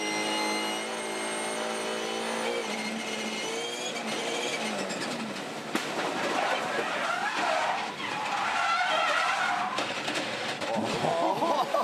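A Supercars Championship race car slides over a hill crest at about 190 km/h, its engine whining loud and steady, then tyres squeal and skid through a long slide. Commentary voices run underneath.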